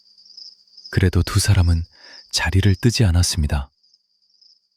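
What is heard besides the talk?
autumn crickets chirping outside the window, sound effect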